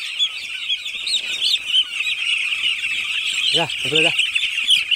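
Six-day-old broiler chicks on a poultry farm, just vaccinated, chirping in a dense continuous high-pitched chorus, close by. A voice speaks briefly over them, and a couple of lower clucking calls break in near the middle.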